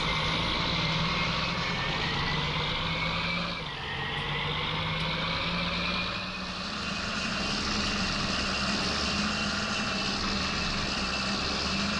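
A tractor engine drones steadily in Farming Simulator 19, a loud, constant mechanical hum with a brief dip in pitch as it shifts speed, heard alone without talk.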